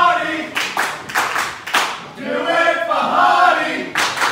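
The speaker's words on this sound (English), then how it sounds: "The crowd are behind Hardy too" Wrestling crowd at an APW Breakout match clapping in bursts, loud and close, mixed with shouts and cheering for a wrestler.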